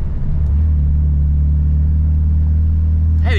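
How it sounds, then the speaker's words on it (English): A BMW E90 with a built engine and 8HP70 transmission swap accelerates gently on its first drive under light throttle, giving a loud, steady low droning engine note from inside the car with a brief rustle at the end. "Hey, the engine sounds all right."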